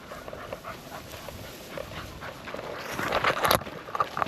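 Working gun dogs pant hard close by during a pheasant hunt in cover crop, with steady rapid breathing, a faint whimper and rustling that grows louder near the end.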